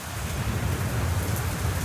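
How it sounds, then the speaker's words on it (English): Rain falling in the video game Black Book, a dense, continuous wash of heavy rainfall with a low rumbling undertone, close and fairly loud, with no talking. "The real problem here is this rain."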